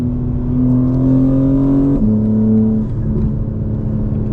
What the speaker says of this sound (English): The intakes almost sound like a blow-off valve.